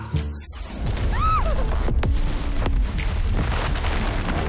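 Gunshots in a trailer for the Malay film Jilake: sharp, loud cracks ring out over a dense, booming cinematic backdrop, with no talking.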